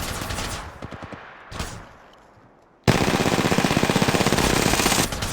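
Apex Legends gunfire starts with a few scattered shots, then after a short lull breaks into a loud, rapid automatic burst that rattles on steadily for about two seconds before stopping.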